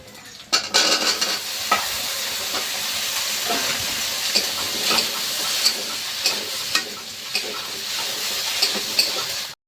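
A curry of taro cooked with onion and green chili in oil comes to a boil: a continuous loud bubbling sizzle, with regular light clinks of stirring throughout.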